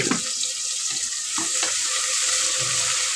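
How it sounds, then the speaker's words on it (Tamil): Onions frying with rock salt in a pan, a continuous close sizzle with a few soft stirring scrapes, fairly loud and steady, no talking. "வெங்காயம் வதங்கி வரட்டும்"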